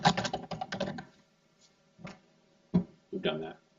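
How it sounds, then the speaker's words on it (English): Keystrokes on a computer keyboard while entering a works-cited page in a word processor, tapped in quick clustered bursts with short pauses, close and clear, with no talking over them. "What we need is we need to type works cited."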